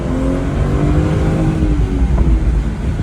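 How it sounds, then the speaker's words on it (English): A BMW 440 xDrive convertible's turbocharged engine revs hard up close, a rough throaty grumble rising and falling with turbo and wastegate whoosh, loud and uninterrupted by speech. "when you romp on it, the wastegate and the turbo makes an excellent noise"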